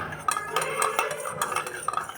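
Mixing in a bowl until the batter turns white, a rapid run of scraping, clinking stirs with a utensil against the bowl, close and fairly quiet, with no talking.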